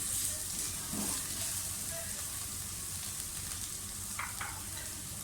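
Green chillies and minced keema fry together in a pan, giving a quiet, even sizzle with occasional light scraping and stirring sounds.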